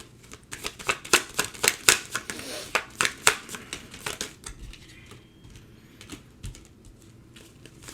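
Tarot cards being shuffled by hand, a rapid run of crisp riffling flutters and slaps close up, then fading into quieter handling near the end.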